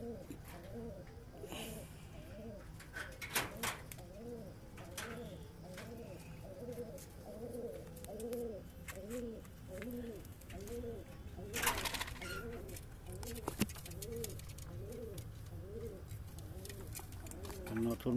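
Pigeons, including a newly added male, cooing in a cage, a repeated rhythmic rolling coo close by with occasional wing flutters and rustles, over a low background hum.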